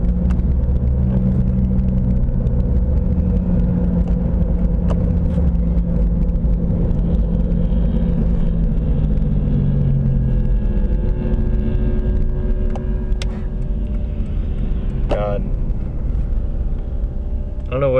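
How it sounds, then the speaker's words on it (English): A straight-piped Honda Accord with no muffler drones loudly ahead of a car in traffic, a deep continuous exhaust rumble filling the whole stretch, with a voice occasionally present over it. "The Honda Accord in front of me has no muffler"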